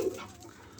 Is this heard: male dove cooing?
yes